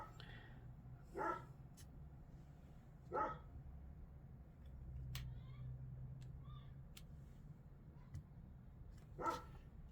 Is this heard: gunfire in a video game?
no